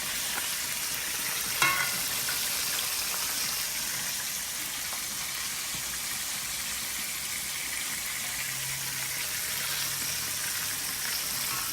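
Garlic and pepper fry in hot oil for Jamaican-style fried chicken, giving a loud, steady close-up sizzle with a brief clatter early on.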